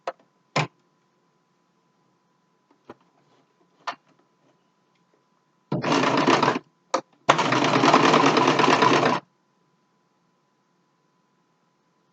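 A sewing machine stitches across a homemade fabric mask in two loud, steady runs of about a second and two seconds, with a few clicks and handling taps before them and quiet between.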